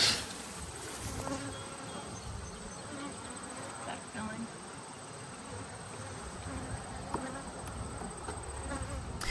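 Honey bees buzzing around beehives, a faint, steady drone of many insects with occasional louder passes near the listener, heard outdoors.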